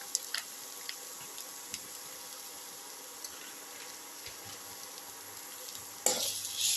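A pan of green pepper, coconut, tamarind and shallot dip sizzles steadily while chili powder and salt are stirred in, with scattered spoon clicks and a louder scrape of stirring near the end.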